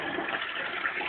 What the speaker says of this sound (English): I think we need to put a bit more water in.